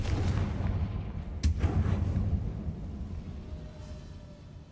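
A Confringo blasting spell in Hogwarts Legacy lets off a single sharp booming blast that decays over a low, rumbling game background.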